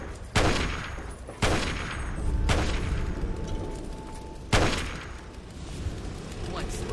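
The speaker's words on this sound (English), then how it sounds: "Guys are up here shooting bottles across the way." Loud, echoing gunshots ring out as rifles fire at bottles across a gap in the Fallout 3 arena, four or five spaced blasts with long reverberant tails.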